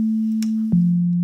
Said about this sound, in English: a sine wave is basically kind of like a pure,